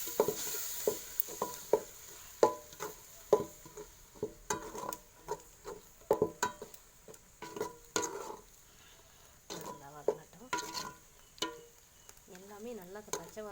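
Tomato paste sautés in a pan while it is stirred, with repeated scraping and clanking strokes over a quieter, patchy sizzle, close by.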